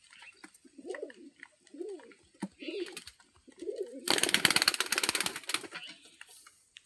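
Several pigeons of assorted breeds coo in repeated soft, rolling phrases close by, followed by a burst of rapid flapping wingbeats.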